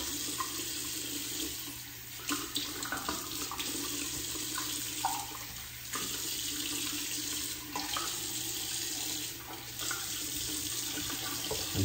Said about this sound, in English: Let me rinse off a little bit.